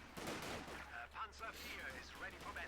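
MG42 machine gun fire in the Company of Heroes 2 strategy game, heard as faint, rapid bursts of gunfire mixed with other battle noise under a speaking voice.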